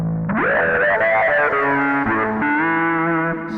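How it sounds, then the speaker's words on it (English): Bass guitar played through a Ghost pedal, a sustained distorted note bending upward then holding, with distorted echo repeats stacking and smearing the tone, loud and alone. "So yeah, you hear even the repeats are distorted, right?"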